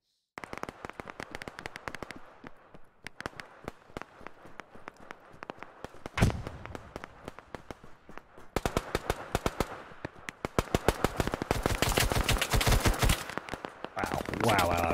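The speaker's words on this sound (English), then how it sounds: "we got a machine gunner pinning us down at front line" Machine gun fire in the video game Operation Harsh Doorstep, with long rapid bursts of sharp shots, some near and loud, some more distant, plus a heavy blast midway and running footsteps.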